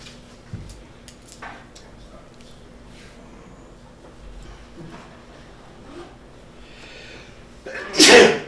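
A quiet meeting room with faint shuffling and small noises, then one sharp, loud sneeze bursts out at the end.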